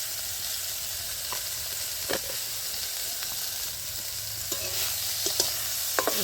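Flat beans fry with turmeric while being stirred in a pan, making a constant close sizzle and hiss broken by light spatula scrapes and taps, with no one speaking.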